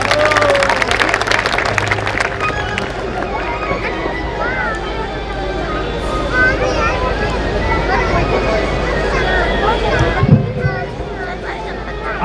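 Applause from an audience at an outdoor BJP political rally for a South Delhi Lok Sabha candidate, steady crowd clapping and hubbub layered under loud, continuous amplified speech throughout.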